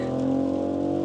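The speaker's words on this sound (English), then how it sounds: "Now the M50, let's accelerate it out." A BMW X5 M50 SUV accelerating hard, heard from inside as a loud, steady engine drone with a strong rising tone.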